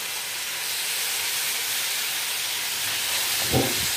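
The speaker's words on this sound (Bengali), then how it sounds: "এখন আমি আমার সবজিগুলো ছেড়ে দিব। দিয়ে দিব গাজর।" Carrots and mixed vegetables land in a hot pan and set off a loud, steady sizzling hiss close by. A brief low clunk comes near the end, and nobody speaks.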